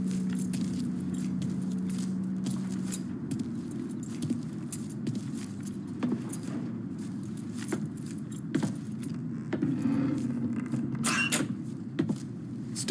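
Keys jangle in the Mafia 3 video game as the keys to a truck are grabbed, with scattered metallic clinks and rattles, soft creaks and knocks over a low steady hum.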